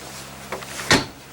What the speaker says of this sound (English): Slam latch baggage doors.